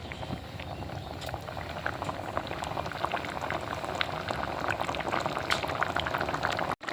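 Onion, potato and poppy seed curry bubbling in a pot, a continuous dense gurgling boil up close with no voices over it.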